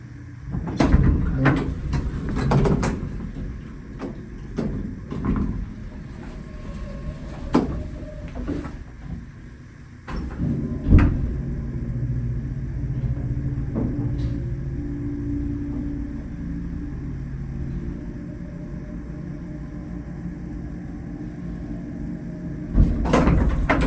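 A hydraulic elevator's doors in a building on Pebble Beach Drive, Citrus Heights, California, opening and closing with sliding rumbles, clunks and sharp knocks, a low hum in between, repeating over the span.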